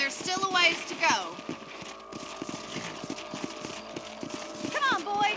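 Horse hooves clip-clop at a steady galloping rhythm in the Western video game Red Dead Redemption, close and continuous under louder character dialogue.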